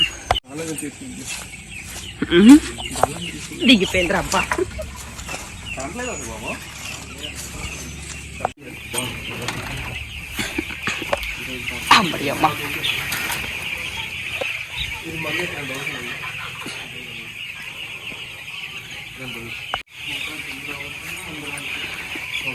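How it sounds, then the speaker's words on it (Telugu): Many small chicks cluck and peep continuously in a crowded poultry shed, with people talking intermittently over the birds. "చిన్న చిన్న కోడి పిల్లలు అనమాట అన్నీ కూడా"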